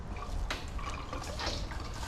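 Fuel glugs from a leaky government-style gas can into an old cabover semi truck that was parked in the woods for 20 years, a steady splashing, trickling pour heard close up with faint drips.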